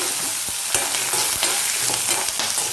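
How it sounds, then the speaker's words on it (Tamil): Urad dal, a green chili and shallots fry and sizzle loudly in hot oil, with steady crackling and occasional stirring scrapes of a spoon in the pan. "இப்போது ஒரு பச்சை மிளகா, ஒரு 12 சின்ன வெங்காயம் இதை ஆட் பண்ணிக்கலாம்."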